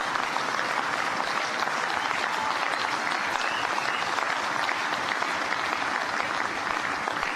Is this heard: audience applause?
yes